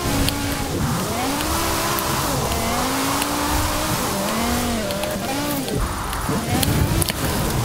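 A BMW M5 E60 driven in Forza Horizon 4, its engine revving up and down through repeated gear shifts in a steady, loud drone, with occasional tire noise.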